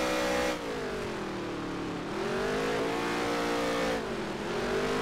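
NASCAR stock car engine in the NASCAR Heat 3 racing game, droning loud and close with rising and falling pitch as the throttle is eased and reapplied through corners, no talk.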